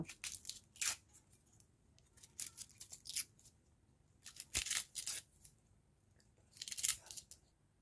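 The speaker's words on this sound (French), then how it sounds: "Ensuite, je vais couper également grossièrement l'échalote." A knife chops a shallot roughly on a cutting board in short clustered bursts of crisp crunching strokes separated by quiet pauses, close and clear, with no talking.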